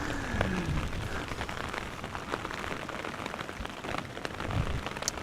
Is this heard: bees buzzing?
no